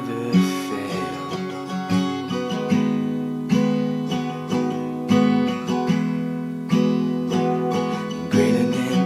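Acoustic guitar strumming the verse chord progression of a worship song, steady rhythmic strums with sustained harmonic chords, close and clear, no voice.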